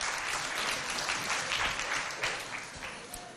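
Audience applause for a child who has just spoken about peace, recorded at a children's school broadcast in Mao, Chad; dense, steady clapping that holds for a few seconds and then gradually thins and fades.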